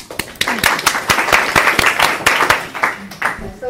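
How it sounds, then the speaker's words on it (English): A lecture class of students claps together at the end of an immunology review: a dense, steady patter of hand claps fills the room, with some voices mixed in throughout. "Let's clap."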